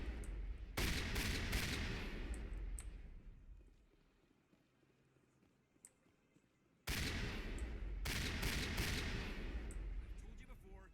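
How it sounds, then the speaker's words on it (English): Gunfire in the Mass Effect video game aimed at a keeper in the Presidium: two long, loud sustained volleys of rapid shots, with a quieter lull between them. "I'll shoot a keeper"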